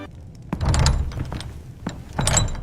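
A door is pushed shut with a dull thunk, followed by a second softer knock, over a steady muffled background.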